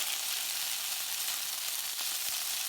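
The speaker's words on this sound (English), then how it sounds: "Give that a quick stir." Yaki udon noodles fry in a hot pan with a steady, close sizzle that stays even throughout, with no clear scrape of the stirring and no voices.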